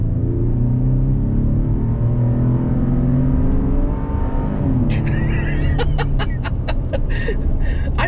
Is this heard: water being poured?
no